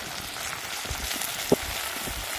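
Spicy snake meat stir-fries in a pan, with a steady close sizzle and crackle and a single brief clack partway through.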